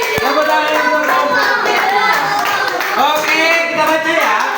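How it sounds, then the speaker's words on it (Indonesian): Children and adults in a classroom clap their hands in quick rhythmic bursts, close and loud, with voices and chatter mixed underneath. "Tepuk tangan."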